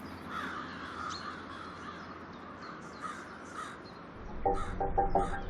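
Crows caw at an urban night roost on lampposts in Halifax, with scattered calls over a low background hush, then a closer burst of several harsh caws in quick succession at the end.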